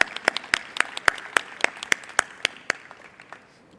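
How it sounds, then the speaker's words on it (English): Audience applause at a closing ceremony of a pig veterinary congress, a small group clapping in distinct regular claps that thin out and fade toward the end, with no talk. "Anyhow, a round of applause."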